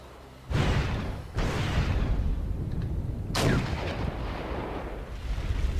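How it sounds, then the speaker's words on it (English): Heavy artillery fire in the real-time strategy game Wargame: European Escalation, with loud booming blasts at about half a second, one and a half, and three and a half seconds, each followed by a sustained rumbling roar with no talk. "We can call in some more artillery fire"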